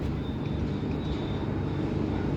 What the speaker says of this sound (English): And I spot another airplane there.